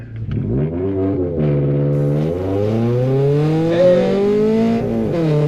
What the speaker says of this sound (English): The 4-cylinder, naturally aspirated Toyota FRS Sport Track. Giving it all she's got on this track.